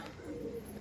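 A single short low coo from a Star Kalanka Andhra pigeon, close and fairly soft over faint background hiss.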